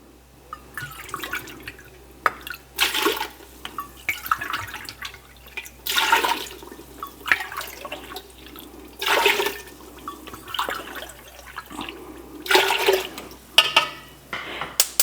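Four cups of vinegar are poured into a pot of corn relish in a kitchen, giving repeated splashing, gurgling pours one after another at close range.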